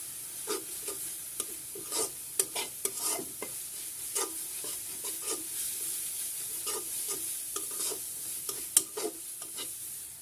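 A spice mix with turmeric and chili powder is stirred in a hot pan for a prawn and pea-shoot curry. Steady sizzling is broken by repeated scraping strokes of the spoon at an irregular rhythm, close and clear.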